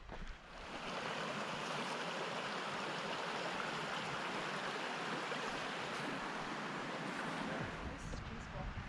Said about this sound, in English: You can hear some water running as well.